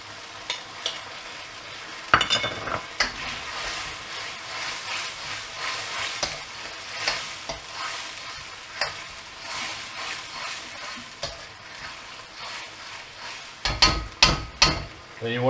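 Noodles frying and being stirred in a pan with a dash of soy sauce, a steady crackling sizzle with scraping stir strokes and a few sharper clanks near the end.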